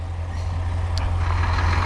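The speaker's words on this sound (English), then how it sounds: "Do have a dump truck coming" A dump truck rumbles past close by with a heavy, steady low drone, heard over the idle of a 2015 Chevrolet Corvette C7 2LT automatic; a single brief high beep stands out near the middle rather than a repeating reverse alarm.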